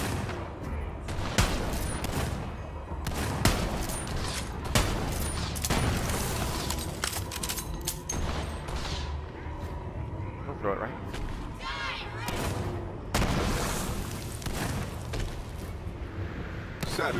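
Gunfire and explosive booms from the Borderlands 3 video game, dense bursts of shots and blasts rolling continuously under excited commentary from a player.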